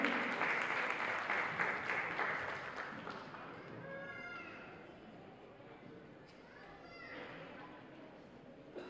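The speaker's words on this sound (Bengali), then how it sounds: "একটা জোরে হাততালি হয়ে যাক আমাদের সব পাখনাদের জন্য" An audience at a Bengali community Mahalaya event in Portland breaks into loud applause that fades slowly over several seconds. Voices talk and call out as the clapping dies away.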